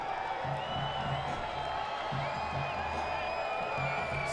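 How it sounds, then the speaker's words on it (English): Steady crowd noise fills a soccer stadium during a Forward Madison FC match against South Georgia Tormenta FC, a constant distant roar with faint rhythmic chanting beneath it. "Crowd making some noise."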